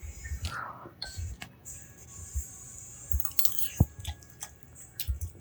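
Someone eating pasta coated in a high-protein marinara sauce made with cottage cheese, with soft, wet chewing and squishy mouth sounds close to the mic, a few small clinks, and quiet whispery breaths between bites.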